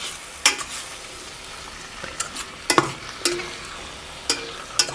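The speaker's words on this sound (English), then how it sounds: "So let's give this a stir." Aldi butternut squash blend being stirred in an Aroma pot, a spoon scraping and clacking in several separate strokes over a soft, steady sizzle, with no talking.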